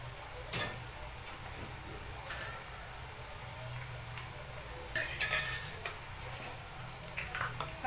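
Soaked sabudana khichdi is stirred in a pan while it fries, giving a soft, steady sizzle. A spoon scrapes and clinks against the pan now and then, loudest around the middle, with faint speech in the background.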